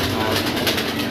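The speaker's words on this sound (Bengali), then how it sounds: "আমার কাছে অনেক জাতের ভালো গিরিবাজ কবুতর আছে" Giribaz pigeons coo close by, their soft calls blending into a dense, noisy background that continues throughout.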